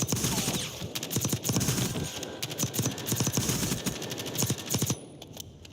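Rapid automatic gunfire from new guns being tested in the Black Ops 6 video game: dense, fast bursts of crackling shots over a few seconds, loud and close, ending with a brief mechanical clack.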